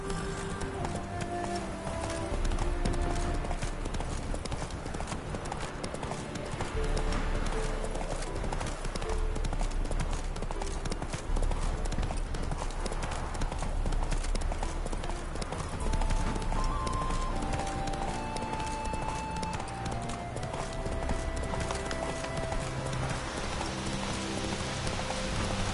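Horse hooves gallop steadily in a PS4 video game, a continuous fast clip-clop rhythm over a dense, loud game soundscape with ambient music and wind-like noise, with no talk.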